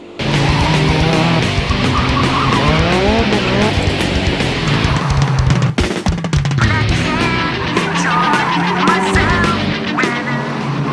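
Cars, likely including tuned racing cars, drive through the narrow, winding mountain streets of Kiyotaki, Osaka, with loud, continuous engine noise and rising and falling revs. Tire squeal and skidding sounds are possible, and there is no talk.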